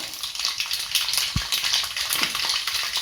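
Mustard seeds pop and crackle in hot oil, a busy sputtering hiss with irregular sharp pops and one low thump.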